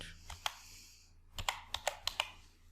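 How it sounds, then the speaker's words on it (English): Several quick keystrokes tapped on a computer keyboard while entering a name in Excel, a short irregular burst of crisp clicks close by after a brief pause. "Type your style name."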